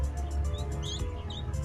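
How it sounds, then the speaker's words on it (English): Wild birds feeding on scraps of food from a compost heap give a few faint, high chirps and tweets over a steady low background hum. "saw the birds feeding off pieces of food from the compost"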